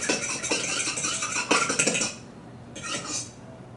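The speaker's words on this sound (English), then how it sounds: "grab our whisk and whisk this together." Whisk clattering against a bowl while chocolate peanut butter cupcake batter is mixed, a steady rapid scraping and ticking, close and fairly loud, that pauses briefly and then resumes for a short burst.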